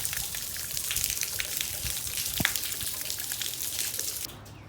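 Water gushing and splashing through a clogged rain gutter downspout as it is flushed out, a steady broadband rush with one sharp knock midway, cutting off abruptly near the end.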